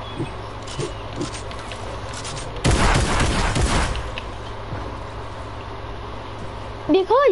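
Video game gunfire: a rapid burst of automatic shots lasting about a second, loud against background music, while players talk around it.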